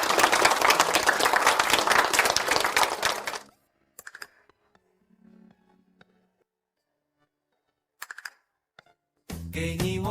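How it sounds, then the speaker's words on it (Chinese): Audience applause for a student in a classroom or ceremony, a loud, dense burst of clapping for about three seconds that stops abruptly, followed by near silence with a few faint clicks and then a brief rise of voices and music. "让我们以热烈的掌声恭喜"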